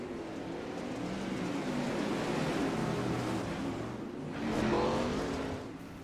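Non-wing 410 sprint cars race around the dirt track at Fairbury in a steady, loud engine roar that swells as a pack sweeps close past, then eases back to a constant drone.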